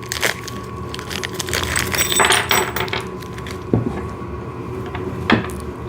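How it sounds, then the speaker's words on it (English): Close-up paper rustling and crinkling as an envelope of snow shovel parts is torn open, with a few sharp crackles and small clicks over steady background hum, no talking. "Let me just get this envelope open."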